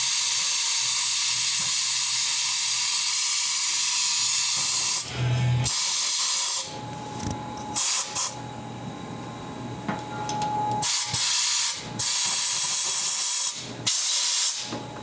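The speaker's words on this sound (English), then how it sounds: "Now we're gonna blow it all out." Compressed air blowing brake cleaner out of bolt threads on an ex-fire truck Sprinter: a loud, continuous hiss that then breaks into a series of short, sharp air blasts with brief pauses between them, close by, no talk.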